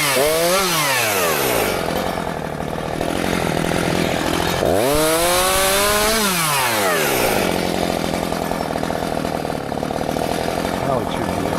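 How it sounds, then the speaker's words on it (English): A chainsaw rips through garden branches, its motor climbing and dropping in pitch over two cuts, loud and continuous, with a voice speaking briefly over it. "Fire up the chainsaw a bit here, get this."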